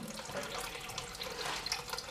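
Water pours into a freshly dug French drain trench in a basement, a steady moderate rushing and splashing that runs continuously and alone, without voices.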